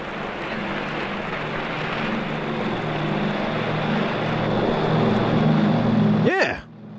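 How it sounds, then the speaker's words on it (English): An airplane taking off at an airfield, a steady broad engine roar building slowly and close, then cutting off abruptly near the end. "Come on, we'll miss the takeoff."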